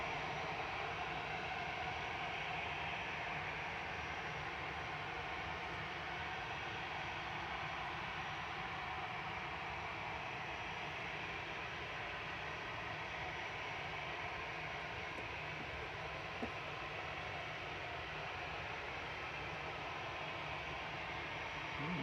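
An Airbus A320neo at Manchester Airport gives off a steady, moderately distant broadband engine roar that holds evenly throughout, with no voices.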